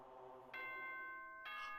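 Two-part announcement chime from the video game Danganronpa 2, sustained bell-like tones ringing out in two bright strikes, clear and alone with no talking.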